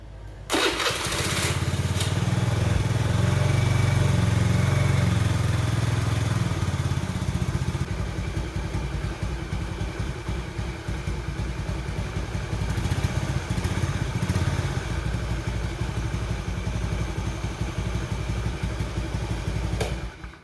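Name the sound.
carbureted motorcycle engine started and idling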